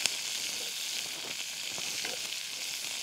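Cabbage fries with bacon in a pan, giving off a steady, even sizzle with soft crackles and occasional stirring scrapes, close up and with no voices.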